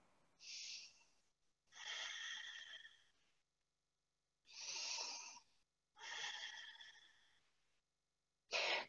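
Two slow cycles of yoga breathing, each a soft, airy inhale and exhale heard close but quiet, separated by brief pauses, with no talking.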